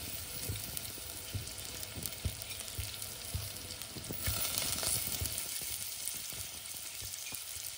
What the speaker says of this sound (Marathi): हे आता तांदूळ आपण त्यात 1 वाटी तांदूळ घातले आहे